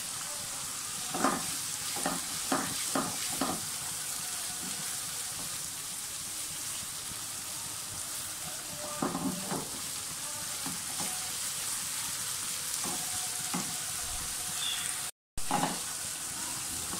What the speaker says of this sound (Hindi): प्याज और लहसुन अदरक वगैरह अच्छी तरह से भूंजिए